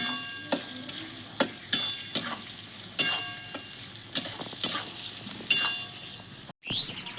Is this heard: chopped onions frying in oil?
yes